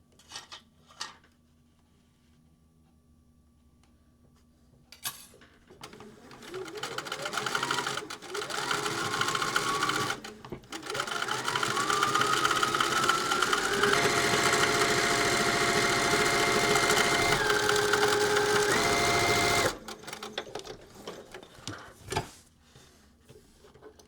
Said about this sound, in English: Then I did the top stitching of the two pieces just to make sure that they did not come apart during use.